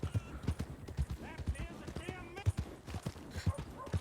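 Horse hooves clip-clop in an even walking rhythm in Red Dead Redemption 2, close and distinct, while someone talks over them.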